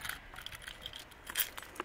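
A lawnmower key on its ring jangles in a few quick, light metallic clinks, close and fairly quiet, with brief louder rattles near the end.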